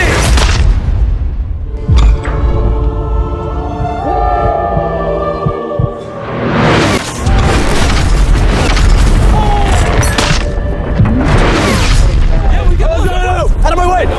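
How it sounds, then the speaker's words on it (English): A Lamborghini dropped from a height onto a train crashes down with a heavy booming impact and grinding, crunching debris, loud and sustained, with people shouting and talking over the wreckage. "3, 2, 1, drop the Lamborghini!"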